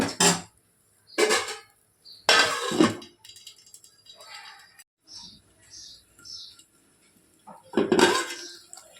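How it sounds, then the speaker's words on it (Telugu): A metal lid set down on a pot of okra curry gives a few clattering knocks and scrapes, loud and close, with quieter rattles and pauses in between. "మూత పెట్టు"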